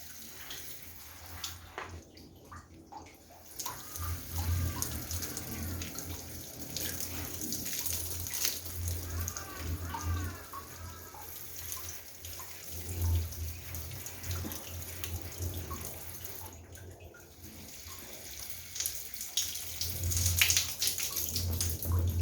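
Succulents being watered generously with a shower-head sprayer, a steady running-water hiss that stays continuous and fairly close for the whole stretch, with no voices.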